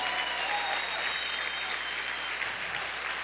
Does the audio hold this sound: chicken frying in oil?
no